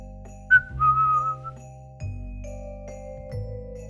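A tavern keeper whistles a short, wavering tune while sweeping an empty common room, the whistle clear and close over low steady droning tones.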